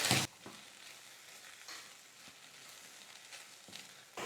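Drumstick leaves and ground peanuts being stirred in a pan for a stir-fry: soft, low frying hiss with a run of light scraping strokes, heard alone at fairly low volume.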